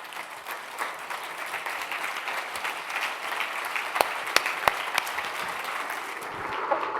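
Conference audience on their feet applauding at a closing session, a steady wash of many hands clapping throughout with a few sharp louder claps standing out near the middle.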